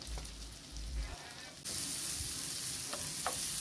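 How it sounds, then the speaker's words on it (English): Minced garlic, ginger and onion hit hot butter in a pan and break into a loud, steady sizzle, with a few close stirring scrapes. "We want this to saute to have a nice light brown color and to release this beautiful aroma."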